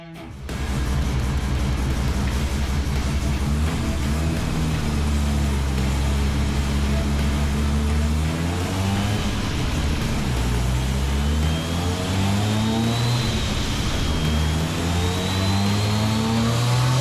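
A Mazda 13B bridgeport rotary race engine fires up in a workshop and revs loudly and close, its raspy drone rising and falling through repeated throttle blips over about seventeen seconds.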